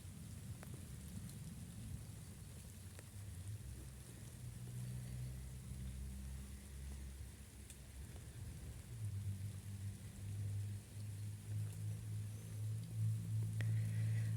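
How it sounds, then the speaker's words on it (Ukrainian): Warm, gentle rain falls steadily in an autumn garden where roses are blooming, a soft continuous patter with a low rumble underneath and no voices. "А дощик приємний, теплий дощ."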